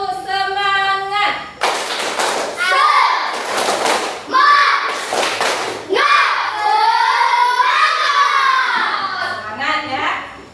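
A classroom of children does a rhythmic clapping chant, with bursts of sharp group claps and thumps alternating with chanted children's voices, close and loud.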